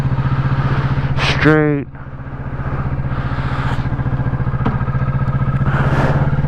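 Steady, loud engine drone of a Kawasaki Ninja 650 motorcycle on a chilly morning ride, with a brief rising gear-shift sweep partway through and a rider speaking a word over the constant engine note.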